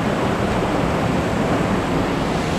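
Constant roaring rush of water at a waterfall plunge pool on Ishigaki Island, a dense steady wash with no breaks, loud and close, with no talking.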